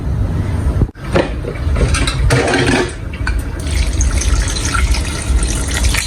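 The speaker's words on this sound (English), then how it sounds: "we're going to be adding the water to that exact quantity we want" Water pours steadily into a pot of Delta Isoko owho soup, a continuous close splashing fill with a brief break near the start, no talking over it.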